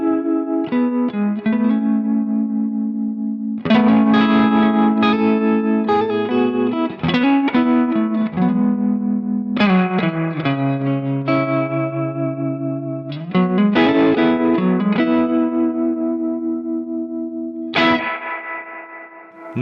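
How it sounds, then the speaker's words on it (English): An electric guitar rig with reverb and tremolo turned up and no boost plays ringing chords and note phrases that pulse and wobble, each one trailing off in a washy reverb tail between strums. "I'm gonna turn both the reverb and the tremolo."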